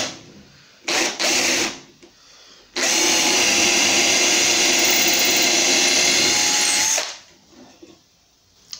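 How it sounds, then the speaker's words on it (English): Power drill boring through wood at a kitchen fitting job with a slightly oversized bit for screw holes; two brief bursts, then a sustained loud whine of several seconds before it winds down, with no talking. "I'm going to drill through with a very slightly oversized drill for the screws."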